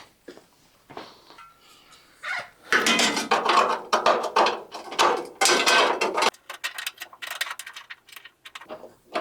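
Loose metal bolts clink and rattle while being rummaged through during rust repair on a 1948 GMC truck, a dense run of sharp metallic taps in the middle with sparser clicks before and after, no talking.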